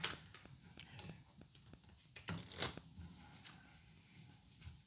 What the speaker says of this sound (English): My casino shuffling techniques are not working.